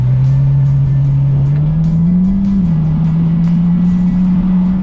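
A loud, steady Ferrari F12 Berlinetta V12 engine drone from inside or near the car at slow speed, a deep hum that rises slightly in pitch then settles, with no voices.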